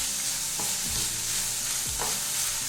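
Onions with garlic and ginger sautéing in a pan for a prawn curry, a constant bright sizzle with a few scraping stir strokes of a spoon across the pan, close and loud with no speech.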